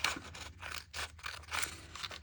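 Close, crisp snips and scraping of scissors cutting through material, several quick cuts in an uneven rhythm.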